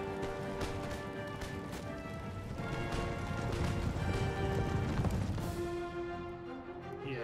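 Horse cavalry gallops across an Empire: Total War battlefield, a continuous dense patter of hooves that rises slightly in the middle and fades toward the end, with scattered thuds mixed in.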